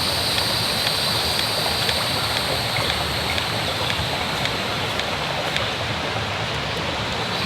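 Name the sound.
hand pump water filter pumping water into Nalgene bottle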